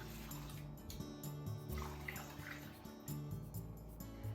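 Cold water runs and splashes into a bowl and strainer holding wakame seaweed at close range, a soft continuous pour with small gurgles and drips, no voices.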